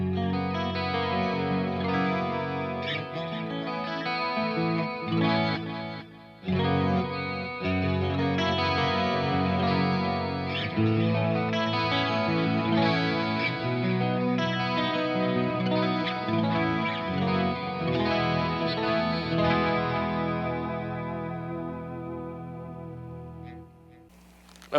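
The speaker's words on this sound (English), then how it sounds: "Now let's just hear what it sounds like in clean mode real quick" A metal guitar amplifier in its clean channel rings out with chorus-tinged, echoing chords and arpeggios, played continuously and loud with a brief pause near the start and a fading end.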